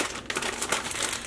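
Crinkly plastic wrapping being peeled off skeins of wool yarn dyed with Tulip tie dye, a brief close run of crackling and crumpling.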